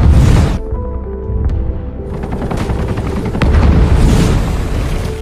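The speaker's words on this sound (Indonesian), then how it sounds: "Helikopter tersebut lalu mulai menjatuhkan beberapa bom ke dalam laut untuk membunuh Megalodon." A loud helicopter rotor drones throughout while bombs dropped into the sea hit in heavy booms and explosive blasts in bursts, with rumbling low-end impacts.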